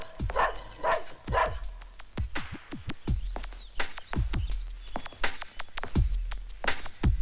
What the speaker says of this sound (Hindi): ये रोमियो क्यों भौंक रहा है?